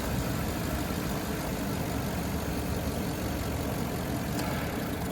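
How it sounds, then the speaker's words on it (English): A 2010 Grand Marquis engine idles up close with its AC compressor cycling on and off, producing a continuous low rumbling hum with a faint, uneven quality and no talking. "the idle would fluctuate drastically and the AC compressor was kicking on and off a lot more than what it should"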